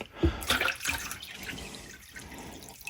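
Rainwater being poured into a CoCoRaHS rain gauge, with a few bright splashes and trickles early on followed by softer dripping and running water, close by and without talk.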